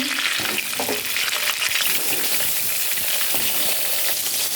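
Pointed gourds (potol) fry in hot oil with bay leaf and small cardamom, a loud, close, steady sizzle with spattering crackles and occasional stirring clatter, with no one speaking.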